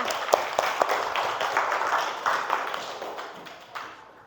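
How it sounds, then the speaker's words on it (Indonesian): Classroom students clap after a lesson: a modest, scattered round of separate claps with a few sharp, close hand strikes early on, thinning and fading toward the end. "Tepuk tangan dulu untuk kita semua ya"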